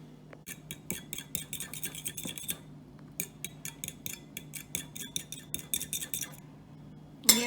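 A utensil clinks rapidly against a bowl while ingredients are mixed into milk for cheddar cheese buns, giving close, bright, rhythmic taps in two bursts with a short pause between, and no talk.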